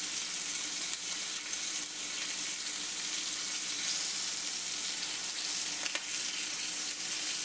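Pork loin searing in a hot pan, a steady, even sizzle of fat and meat, close and moderately quiet, with a few faint crackles scattered through and no voices.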